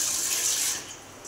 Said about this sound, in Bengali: এবার বাসনপত্র ধুয়ে নেবো